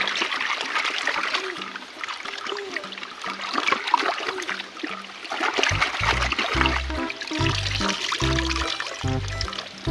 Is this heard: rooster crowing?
no